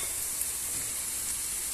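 Onions fry in a pan with a soft, even sizzle that holds steady throughout and carries no speech.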